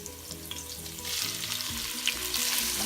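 Ham and garlic fry in a pan with a steady, loud sizzle that swells after the first second into a bright, crackling hiss with small pops, and a low hum runs underneath without any talk.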